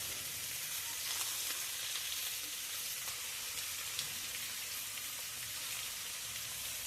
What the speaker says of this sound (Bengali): সামান্য পরিমাণ চিনি দিয়ে ভালো করে মশলাটা কষিয়ে নেব।